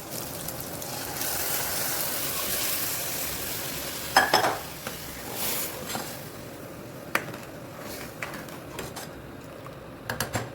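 Crushed dal is tipped into a sizzling tomato-onion masala for Gujarati dal dhokli, giving a steady frying hiss with a brief clatter of spoon and pan partway through and a few later scrapes.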